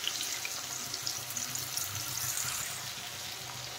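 Spice paste of ginger, cumin and green chilli ground in water goes into a pan of frying potatoes for a cauliflower and rohu fish curry, giving a steady watery sizzle and hiss with faint clinks, no talk.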